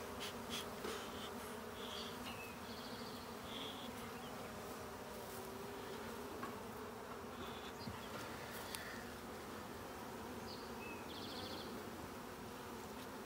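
Dense, steady buzzing of many honey bees up close at a Layens hive, a continuous droning hum with individual bees whizzing past now and then.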